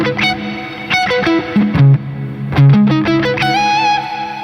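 Synth notes played through the Legends Verb reverb plugin with ducking, loud distorted tones stepping through a melody, the reverb tail pulled down while notes play and swelling back in the gaps.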